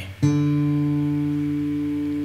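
A single guitar pluck sounding two notes together, a fretted string and an open string, rings out clearly and sustains with a slow decay, played alone as the opening of a song.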